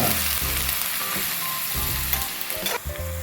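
Onions sizzle and fry in a pan for a small-fish curry, a steady dense crackle running throughout with occasional soft stirring knocks, close and fairly loud with no voices.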